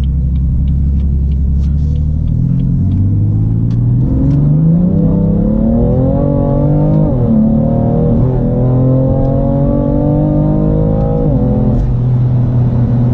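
A BMW M3 F80 Competition's engine rumbles loudly and revs up, its pitch climbing through the gears in a close, continuous roar with no talking.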